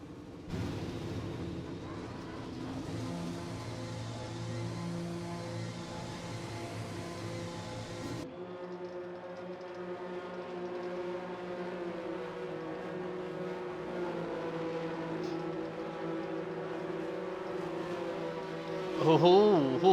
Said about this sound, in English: I can hear engines firing up.